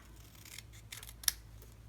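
Scissors snipping paper to trim an altered paper clip craft, a few close, crisp cuts ending in one sharper snap, heard alone without speech.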